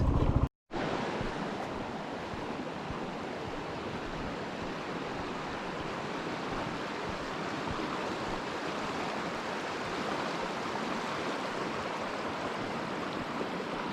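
A river on Sleeping Child Road in Montana rushes in a broad, steady roar that stays even and unbroken, with a short gap right at the start.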